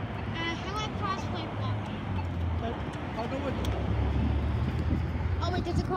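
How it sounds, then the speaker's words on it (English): A car approaches along a town street at a crosswalk, its low engine rumble building louder toward the end while people talk nearby. "Oh wait, there's a car coming."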